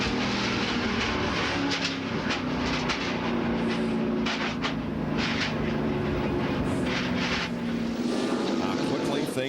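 Onboard NASCAR Cup race car of Rusty Wallace, 1997 season, a loud sustained engine roar with shifting pitch as the car runs through the turns, close to the mic, with faint commentary voices over it.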